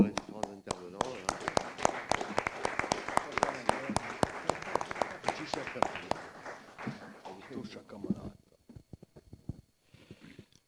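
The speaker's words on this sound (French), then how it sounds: "crois qu'on peut applaudir les différents intervenants" An audience applauds the speakers at a talk, with dense, crisp clapping that runs for about eight seconds and then thins out into scattered last claps.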